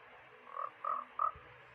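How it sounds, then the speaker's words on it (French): Three short, evenly spaced croaks from a frog in Minecraft, clear and close against a quiet background. "Ok, il y a une grenouille."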